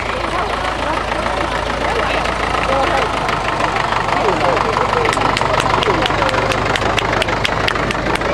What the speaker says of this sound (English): And there's Robert with his tractor